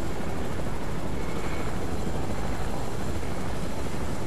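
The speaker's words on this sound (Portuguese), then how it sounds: "tem um helicóptero ali embaixo ali, ó" A helicopter in the video game Fortnite gives a steady, dense rotor and engine roar that fills the whole stretch evenly, loud and continuous, with no voices over it.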